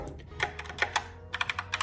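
Typing on a Logitech mechanical keyboard with brown switches: quick bursts of close, crisp keystroke clicks in irregular clusters, alone without talking.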